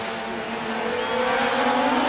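500cc Grand Prix racing motorcycles at the 1988 French GP scream past at speed, a loud, close, high engine whine that rises steadily over two seconds, with no voices.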